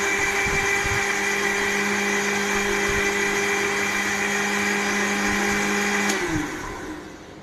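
A kitchen mixer grinder spins milk at high speed, a loud steady motor whine with a constant churning hum for several seconds, then switches off and winds down abruptly near the end.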